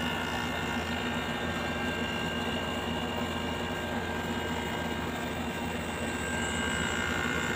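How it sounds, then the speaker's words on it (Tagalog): The compressor of a window-type air conditioner runs with a steady, loud, unbroken mechanical drone and hum that stays even throughout. "So mandar na si compressor."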